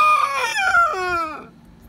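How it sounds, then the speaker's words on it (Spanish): A single rooster crows up close among a flock of chickens, a loud, strained call that rises and then slides downward before breaking off. "están los gallos,"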